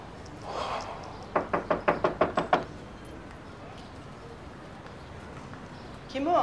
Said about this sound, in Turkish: Kapıyı çalalım gel.